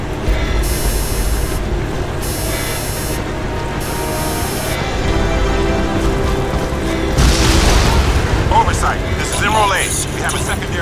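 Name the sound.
explosion in video game Crysis 2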